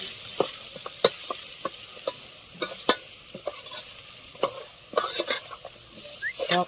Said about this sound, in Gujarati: હલાઈ નાખવાનું